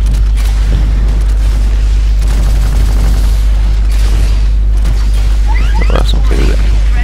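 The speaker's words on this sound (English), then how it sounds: "Oh, let's bring out the Titan. The arc cannon." Titanfall's Titan arc cannon fires on the Outpost 207 map, with heavy booming blasts and crackling bursts over a dense, loud battlefield din. Sharp rising electric zaps come near the end.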